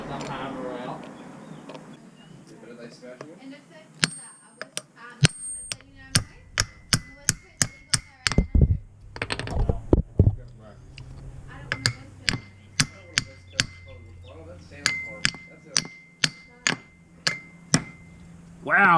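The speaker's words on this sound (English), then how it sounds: "Wow, if this bloke could hit straight with this hammer, it would be nice." Hammer knocking ARP wheel studs into a race car hub, a series of sharp metallic strikes, some in quick bursts and others spaced apart, close and loud, with someone talking between the blows.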